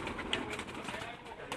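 Athri breed pigeons coo softly through a short stretch, a low steady murmur of several birds close by, with a faint voice in the background.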